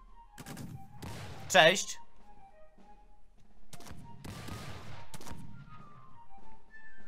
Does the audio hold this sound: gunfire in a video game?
yes